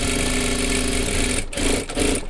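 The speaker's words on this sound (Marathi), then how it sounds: "असं व्यवस्थित पकडा इथे आणि शिलाई मारून घ्या." A sewing machine runs steadily while stitching a size 30 katori blouse, its close, continuous motor whir holding a constant hum with a couple of brief dips near the end.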